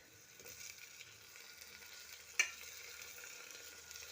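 Onion frying in a pan with chopped tomato and dried red chilli to follow for mixed dal makhni, a soft steady sizzle throughout with a single brief utensil clink near the middle.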